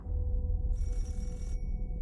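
Telephone ringing as a sound effect, a bright electronic ring burst that sits over a low droning bed, one short ring in the middle that starts and stops abruptly.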